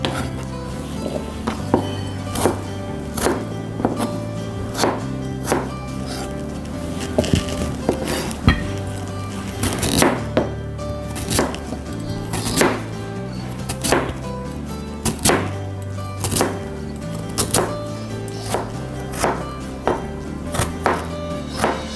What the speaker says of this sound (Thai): หั่นไป หั่นไปสี่เหลี่ยมเต๋าเนาะ